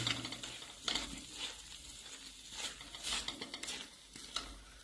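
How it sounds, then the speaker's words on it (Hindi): A spoon stirs homemade khoya in a hot kadhai after the flame is turned off, with scraping and clinking strokes over a faint sizzle, close but quiet and without speech. "और इसको थोड़ी देर चमचा चलाऊंगी कि नीचे ना जम जाए"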